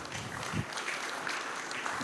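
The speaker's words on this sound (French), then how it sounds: "que je vous demande d'applaudir" A conference audience at an industry event applauds, a brief steady wash of clapping hands heard from a distance and fairly faint.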